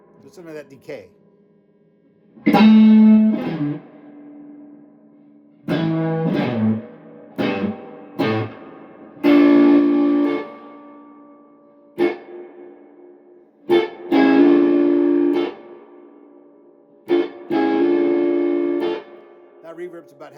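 Electric guitar notes and chords played through an amplifier with reverb set about halfway, each ringing out with a spacious reverb tail between bursts of playing.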